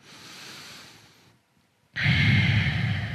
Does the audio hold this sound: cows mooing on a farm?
no